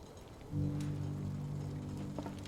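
Airship engines in Final Fantasy XVI start up after a quiet moment, then hold a steady, low, humming drone with layered tones that keeps running to the end.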